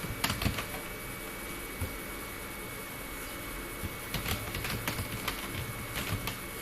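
Someone types a name on a computer keyboard while filling in a document, producing a quiet, steady patter of small clicks with occasional louder key strikes.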